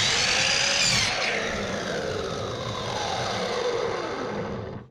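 A power tool cuts through a cedar plank for lure making, giving a loud, steady roaring whine that holds for about five seconds with a slight pitch shift early on.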